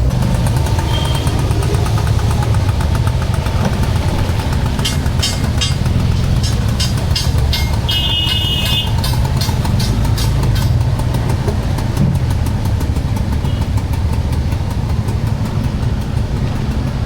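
An auto rickshaw engine idles steadily with the vehicle switched on while its meter is faulty, a loud, continuous low rumble with a fast rattling pulse throughout, alongside faint traffic and a brief high beep.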